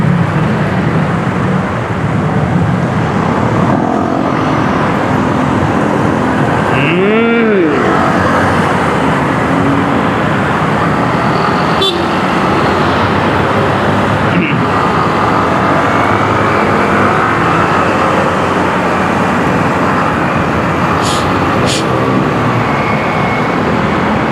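Steady road traffic rumbles throughout, with one brief horn-like tone standing out near the start and a few faint, higher tones later.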